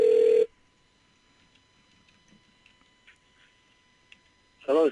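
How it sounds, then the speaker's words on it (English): An outgoing phone call rings back through the handset, giving one steady tone burst at the start and another at the end, with quiet line hiss between them. "And it's ringing."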